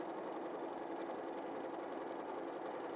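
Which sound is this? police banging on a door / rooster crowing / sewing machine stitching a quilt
sewing machine stitching a quilt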